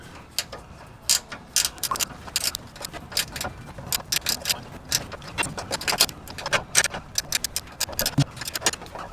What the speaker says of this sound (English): With the ratchet, it makes it a lot easier.